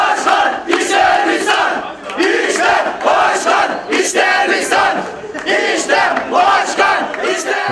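A packed hall of young people at a cultural centre chants slogans in loud, rhythmic unison, with repeated surging shouts that rise and fall in a steady cadence.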